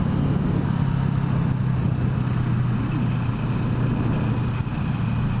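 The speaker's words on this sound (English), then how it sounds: "You do get quite a nice induction growl at low revs" A CFMOTO 650NK motorcycle engine growls steadily at low revs, its induction note a continuous deep rumble heard up close while riding, with no talking over it.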